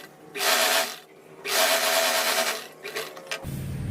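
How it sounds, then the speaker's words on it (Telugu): A home sewing machine stitches pant fabric for a Punjabi-style dress in two loud bursts of rapid mechanical rattling, then a shorter run of uneven stitching near the end, with no talking. "ఇప్పుడు ఈ చివరి నుంచి కూడా కుట్టు వేసేద్దాం."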